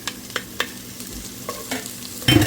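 Fresh basil sautés in a pan: soft scrapes and stirring knocks, then a brief louder sizzle near the end, with no voices.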